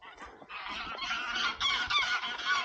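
Several geese honk in a quick overlapping burst of nasal calls, fairly close and loud, outdoors in open woodland.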